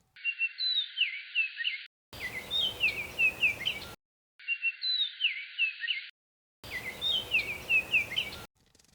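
Oriole song played back repeatedly: short phrases of clear whistled notes, presented twice in alternating versions, some with a noisy background and some isolated.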